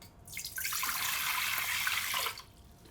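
Water streams into a bowl of yeast and flour for pizza dough in a short, steady pour lasting about two seconds, close and fairly quiet, then stops.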